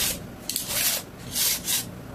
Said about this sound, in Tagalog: Tapos may liha kayo.